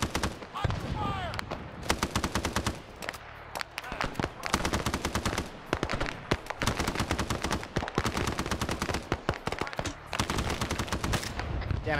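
Sustained automatic gunfire in Arma 3 SOG Prairie Fire, with long dense bursts of rapid shots, brief gaps between them, and a steady loud crackle that continues throughout and sounds near.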